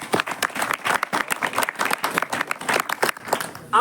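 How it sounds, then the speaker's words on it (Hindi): Lively clapping from a gathered audience at a gurukul yoga event, many hands beating in quick, uneven bursts close by, loud and continuous for several seconds. "बहुत बढ़िया, ताली बजाओ।"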